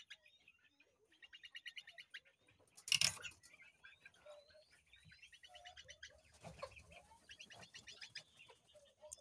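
Golden Neck d'Uccle bantam chickens cluck and chirp softly in short bursts, with a couple of louder squawks standing out against an otherwise quiet background.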